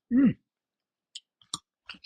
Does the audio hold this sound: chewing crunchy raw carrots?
yes